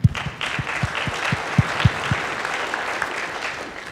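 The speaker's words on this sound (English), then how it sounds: "So again, round of applause to y'all." A short burst of applause from a small group at a summit, a few distinct rhythmic claps up front that settle into a softer, fading patter.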